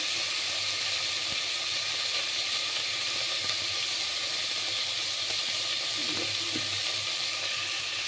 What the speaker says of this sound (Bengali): এবার একটু আদা বাটা দিলাম।